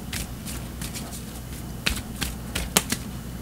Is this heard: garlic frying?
no